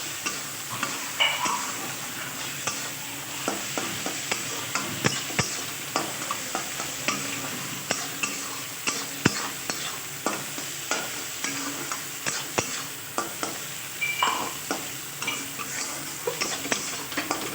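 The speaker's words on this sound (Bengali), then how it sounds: "ভালো করে নেড়ে চেড়ে মিশিয়ে দেবো।" Shol fish vorta mixture stirred in a pan, a continuous sizzle broken by frequent rhythmic scrapes and taps of a spatula against the pan, close and fairly loud.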